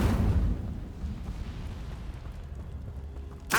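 Incendio fire spell cast in Hogwarts Legacy: a loud, rumbling burst of flame that opens strong, then settles into a sustained low roar and fades, ending with a short sharp crackle.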